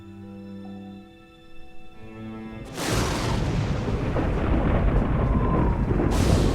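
A deep rolling boom of thunder before a storm breaks in abruptly after a low held musical tone, then a dense loud rumble continues to the end.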